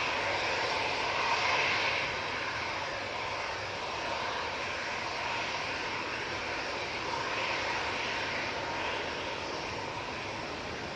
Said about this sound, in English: And that EasyJet A320 is off to Antalya.